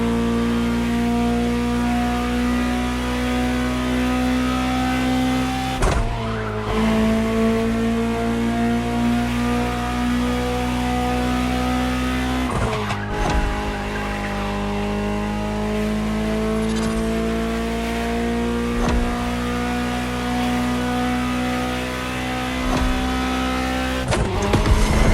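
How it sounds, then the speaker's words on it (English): A powerful supercar engine in the video game The Crew Motorfest roars and revs up through the gears, its pitch climbing then dropping at each shift, loud and close throughout. "Just listen to the car you're driving."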